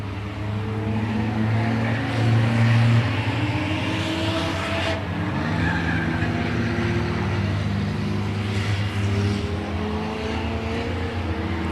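Race cars roar continuously around the oval track at Seven Rivers Racing, engines loud and near with pitch sweeping as cars pass, a steady wall of motor noise with no talk.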